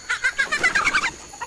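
Startled chickens cluck in a fast, agitated series of close, loud calls, trailing off to a single faint cluck.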